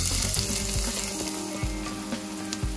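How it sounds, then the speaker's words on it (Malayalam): Chopped onions fry in hot oil in a pan for fried rice, a loud steady sizzle with a few stirring scrapes and bumps from the utensil, close up with no talking. "ഞാൻ പാൻ എടുത്തിട്ട് വെച്ച് ചൂടായിട്ട് ഓയിൽ ഒഴിച്ച് ചൂടായിട്ട് വന്നിട്ടുണ്ട് അതിലേക്ക് ഞാൻ ചെറുതായിട്ട് ചോപ്പ് ചെയ്ത സവോള ഇട്ട്"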